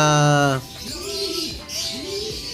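Pigeons coo in a low, rolling call that repeats twice after a brief higher chirp, close by and fairly loud, with no talking over it.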